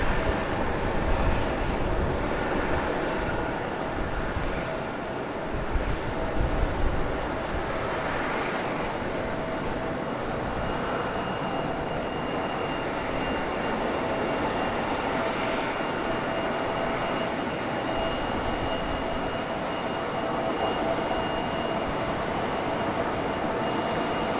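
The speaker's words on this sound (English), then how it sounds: "Very smooth touchdown for the American 737." An American Airlines Boeing 737 touches down at Raleigh-Durham International Airport, a steady, moderately distant jet engine roar and rumble that holds throughout with little change.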